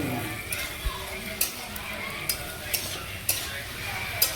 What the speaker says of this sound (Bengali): ভালো করে নেড়ে নিচ্ছে